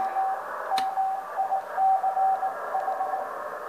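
A homemade CW keyer sends a faint stream of Morse code tones: short steady beeps in an irregular dot-dash rhythm over a constant hiss, with one sharp click early on.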